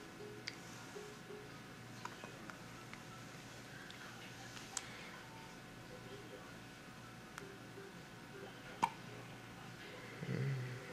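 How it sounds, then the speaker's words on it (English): A one-day-old newborn baby hiccups: several small, sharp, isolated clicks spaced a couple of seconds apart, faint and close over quiet room noise, with a slightly louder burst near the end. "You have the hiccups."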